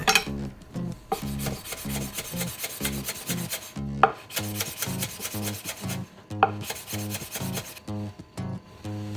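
A kitchen knife finely shreds two or three shiso (ōba) leaves on a board, producing steady, rapid rhythmic chopping taps in close, repeated runs with a few brief pauses.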